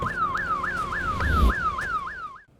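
Building alarm still ringing as a fast, rhythmic warbling siren, rising and dropping about three times per second, moderately loud with a low rumble underneath before cutting off.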